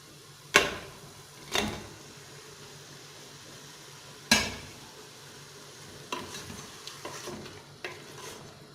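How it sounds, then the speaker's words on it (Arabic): Meat frying with onions in a pan sizzles softly under sharp scraping stirs, several loud strokes of a utensil against the pan spaced a second or more apart. "عند تقلية البصل نضع اللحم"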